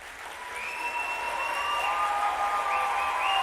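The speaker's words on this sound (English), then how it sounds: "let's get a little round of applause going here." Applause opens a live stream as a steady, moderately quiet round of clapping that builds slightly, with faint tonal whistles over it and no talking.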